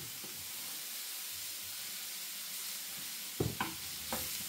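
Mushrooms frying in oil in a pan for a steak and ale pie give a steady, close, broadband sizzle and hiss, broken near the end by a few sharp scrapes and stirs of a utensil against the pan.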